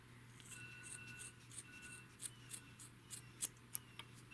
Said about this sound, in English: So go back through and trim it shorter, because I want them to stand up.